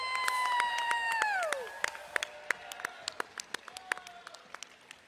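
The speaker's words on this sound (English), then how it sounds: "how about another round of applause for all of our award winners here tonight?" Applause for award winners at the 2025 State Summer Games opening ceremony, scattered claps from a crowd that thin out over several seconds, following a sustained tone that slides down at the start.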